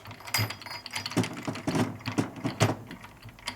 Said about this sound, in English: now if you turn this enough times, it'll lock up all the gears